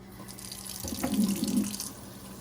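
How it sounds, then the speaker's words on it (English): Tap water running into a sink while rinsing an orchid pot, a brief splashing flow that swells for about a second then tapers off, close and fairly quiet. "So next step is I am going to rinse it with the water."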